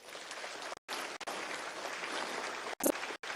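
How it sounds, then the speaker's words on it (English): Crowd clapping at a live gathering in Nigeria, continuous broad applause with a few abrupt dropouts, fairly faint and steady throughout. "give each of us a grand applause for being here"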